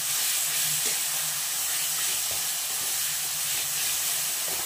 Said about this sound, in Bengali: আর এদিকে মশলাটাকে কষাচ্ছি।